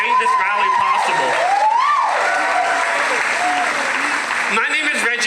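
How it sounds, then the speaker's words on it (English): A crowd at the 2022 Spirit of Stonewall Pride rally in San Diego breaks into loud, sustained applause with cheering and whoops, voices rising over the clapping. "can we also get a round of applause for the San Diego Pride team, volunteers, the youth, everyone that has made this rally possible"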